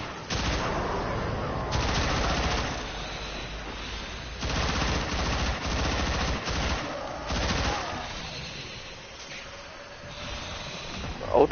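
Rapid gunfire from the player's weapon in Warframe, a dense run of shots in several bursts with short breaks, close and steady over game background sound.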